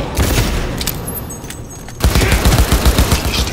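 Rapid bursts of gunfire in Cyberpunk 2077, with a quieter stretch of scattered shots giving way to a loud, dense volley of repeated close shots over a steady game backdrop.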